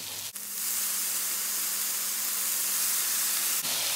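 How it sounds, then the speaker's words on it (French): Onions in a pan hit with balsamic vinegar erupt into a loud, steady hiss and sizzle that starts abruptly, holds evenly for about three seconds, then cuts off, with no talking. "Je vais déglacer les oignons avec 2 cuillères à soupe de vinaigre balsamique."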